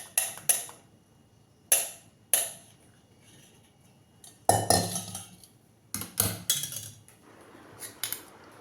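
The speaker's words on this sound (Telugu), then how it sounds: "ఇలా స్పూన్తో వత్తడం వల్ల ఈ కషాయం అంతా బాగా దిగుతుంది" A spoon scraping and pressing herbal decoction through a metal strainer in a home kitchen, sharp metallic clinks and scrapes in irregular bursts, some single taps and some clustered rattles, close and clear.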